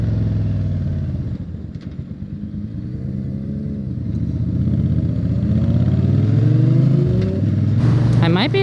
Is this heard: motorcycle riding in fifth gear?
yes